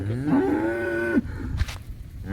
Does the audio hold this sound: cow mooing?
yes